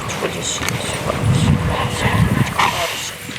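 A shepherd dog whimpers and gives a few short barks and yips outdoors, close to the microphone, with wind buffeting and people talking in the background.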